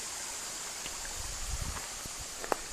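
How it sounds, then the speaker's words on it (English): Mountain stream water of the North Fork Moormans River headwaters in Shenandoah National Park flows in a soft, steady wash, with a few faint splashes and knocks near the crossing. "I'm getting ready to cross the headwaters of the Moormans River"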